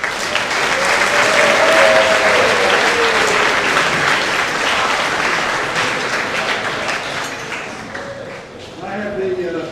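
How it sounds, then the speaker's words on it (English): A dinner audience gives a sustained round of applause for a West Virginia governor, a loud dense wash of clapping that slowly tapers, with a few voices audible near the end. "So let's have a round of applause for Mr."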